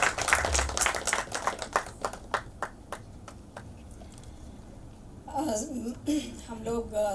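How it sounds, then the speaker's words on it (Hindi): Sparse clapping from a small crowd at a Hindi comedy film teaser event honoring Seema Kapoor: distinct individual claps that thin out and die away, followed by a voice speaking. "जोरदार तालियां सीमा जी के लिए"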